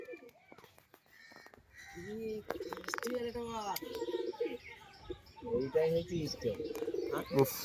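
Colourful pigeons cooing in a home loft, soft throaty coos alongside sharp crow caws and chirps, with people talking nearby over the birds.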